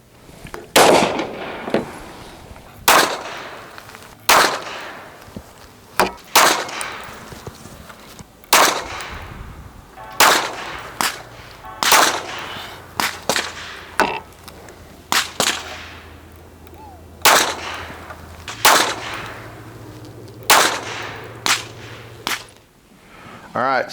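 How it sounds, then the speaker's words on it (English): A 9mm pistol fires cheap 147-grain range/plinking ammunition, with roughly twenty sharp, loud shots spread over the stretch in an irregular string of single and paired cracks, each followed by a brief decay. "so we've shot our 75 rounds"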